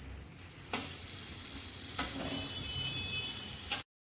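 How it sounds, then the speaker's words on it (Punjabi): Onions frying in a pan with cumin and asafoetida for a mixed vegetable sabzi give a loud, steady sizzle with a couple of sharp stirring clicks, no voices, ending abruptly. "ਪਿਆਜ਼ ਪਾ ਕੇ ਆਪਾਂ ਇਹਨਾਂ ਨੂੰ ਭੁੰਨ ਲਵਾਂਗੇ"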